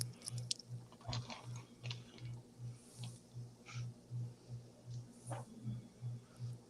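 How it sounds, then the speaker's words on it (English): Gum being chewed close to a microphone, with steady rhythmic wet chomps repeating about twice a second, soft and moist, running alone throughout. "I was just chewing a piece of gum thinking, oh my gosh, what if everybody can hear me chewing this gum?"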